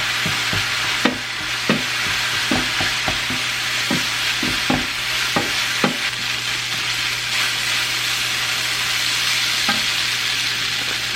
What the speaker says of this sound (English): I'm just going to brown this and add the taco seasoning and just make taco meat